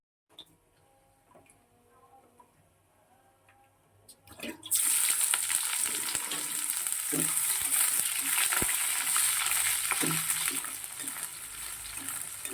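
After a few seconds of quiet clinks, boneless chicken hits hot oil in a kadai and a loud, steady sizzle takes over, with occasional stirring clatter.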